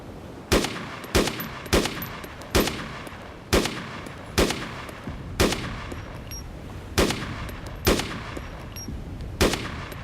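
Sniper rifle fire in Arma 2 with the DayZ mod: about a dozen sharp, loud shots spaced roughly a second apart, each a hard crack followed by a short echoing tail, with no talking.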